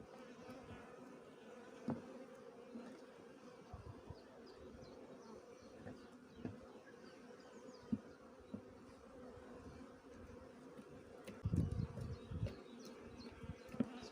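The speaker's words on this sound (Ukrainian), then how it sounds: "бджілки літають, працюють, несуть пилок." Honeybees flying around open hives in warm spring sunshine, a dense continuous buzz of many insects close by with occasional louder passes and faint knocks.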